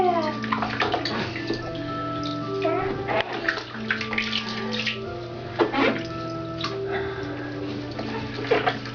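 Bath water runs and splashes during a baby's bath, a close, continuous trickle with small sloshes, while soft, intermittent speech sounds above it.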